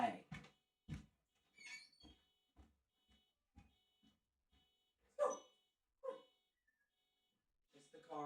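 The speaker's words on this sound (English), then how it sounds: "Now my dog's barking." A pet dog barks in short, separate bursts indoors, sometimes single and sometimes doubled, with pauses between, fairly quiet overall and mixed with a few soft whimper-like yips.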